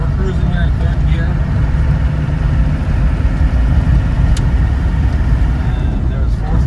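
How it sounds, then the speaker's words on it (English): A 1994 Land Rover Defender 90 with a 200Tdi diesel engine cruising in third gear, a steady loud low drone and road rumble heard from inside the cab. "Alright, so we're cruising here in third gear."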